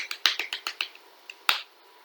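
A Pilates class claps quickly with the fingers while the palms stay pressed together, giving a run of about eight crisp, light taps followed by two more after a pause.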